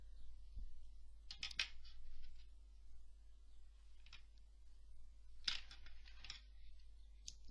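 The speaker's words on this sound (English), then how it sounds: "we are now ready to cut our yarn" Scissors snip through crochet yarn in a few quiet, sharp cuts, a pair close together early and another pair later, over near silence.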